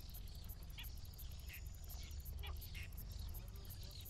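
A whiskered tern gives sharp, rising calls at its nest on the salt lake Tuz Gölü. The short cries recur every second or so over a dense, steady wash of colony and insect noise.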